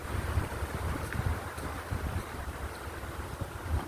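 Steady wind rushes and buffets against the microphone, low rumbling gusts with a faint open-air hiss, no voices.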